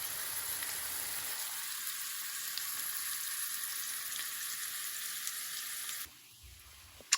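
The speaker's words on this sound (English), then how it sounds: "I got my butter melting in the pan here" Grass-fed butter melts in a hot pan with a steady, soft sizzle and faint crackling that carries on throughout, heard alone with no voices.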